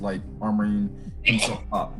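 A single sharp sneeze breaks through mid-sentence, close and loud, right after someone talking about an anime character.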